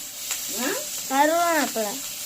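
Curry leaves crackle and sizzle in hot oil with asafoetida powder, a steady frying hiss close up, with a voice briefly audible over it.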